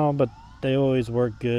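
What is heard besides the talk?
emergency vehicle sirens passing in the street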